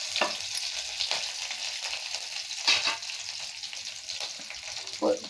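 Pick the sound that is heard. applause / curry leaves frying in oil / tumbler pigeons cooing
curry leaves frying in oil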